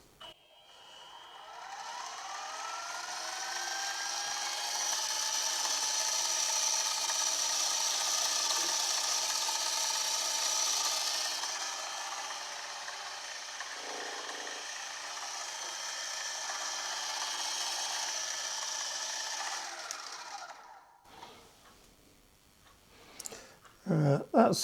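A Quorn Mk3 tool grinder cuts an arc, giving a long, steady, high grinding whine with a ringing tone that sustains for about twenty seconds. Brief clatter and handling noises follow as it winds down.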